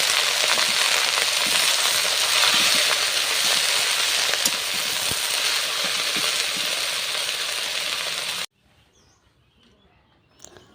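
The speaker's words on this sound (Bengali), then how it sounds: "পেঁয়াজ কাঁচামরিচ রসুন শুকনামরিচ সব বেজে নিচ্ছি" Onion, green chili, garlic and dried chili fry in hot oil, a steady loud sizzle with light stirring clatter that runs for about eight seconds, then cuts off abruptly to near quiet with a faint clink at the end.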